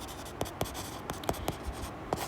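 Chalk or marker taps and scratches across a board in short, quick strokes, a handful of crisp marks spaced unevenly over a quiet background.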